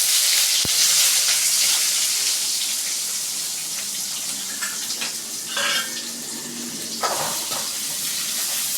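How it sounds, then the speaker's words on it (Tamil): Chopped onions hit hot oil already crackling with mustard seeds and fenugreek for a Tamil fish curry, giving a loud, dense sizzle at first that settles into steady frying with occasional stirring scrapes. "இப்போ கட் பண்ணி வச்சுருக்க வெங்காயம் கொட்டிக்கலாம்."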